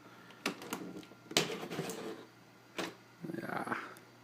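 Arduino-driven servo motor unlocking a combination door lock: a few sharp clicks and knocks, then a short whirring buzz near the end, close and fairly quiet with no talking.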